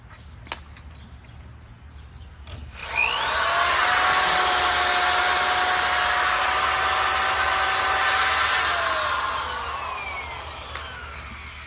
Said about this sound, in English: let's try a traditional drill that's AC powered